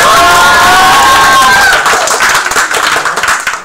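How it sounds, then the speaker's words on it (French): An audience claps and cheers for an MC named Aaron being introduced at a DJ event, dense loud applause that starts high and gradually thins toward the end, with some voices mixed in. "on applaudit Aaron"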